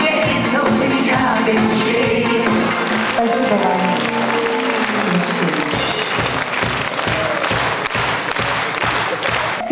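Concert hall audience applauding warmly after a performance, sustained clapping blended with lingering music and crowd noise, growing more rhythmic toward the end.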